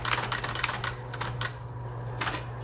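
A 1960s Smith Corona Coronet Automatic 12 typewriter is typed on. Crisp key strikes fall in quick clusters with brief pauses, and the margin bell may ding among them.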